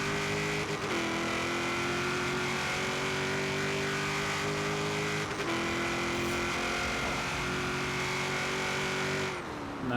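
A tuned 700 hp, 700 ft-lb car in Forza Horizon 3, set up for roll racing, accelerates to about 40 mph with a loud, steady engine roar and quick gear shifts.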